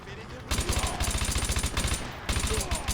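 Rapid automatic fire from an FN F2000 bullpup rifle in Call of Duty: Modern Warfare 2, two loud sustained bursts of gunfire separated by a short pause.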